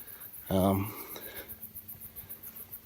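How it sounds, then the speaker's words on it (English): Night insects chirp in a steady, rapid pulsing rhythm high and faint in the background, briefly interrupted by a short, loud, squealing call near the start. "There's lots of like insects and frogs and birds making all kinds of noises tonight."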